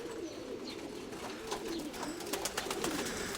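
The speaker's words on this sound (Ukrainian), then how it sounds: "Трохи посунулись голуби." Pigeons coo softly in low murmurs against outdoor wind, with a few sharp clicks and wing flutters toward the end.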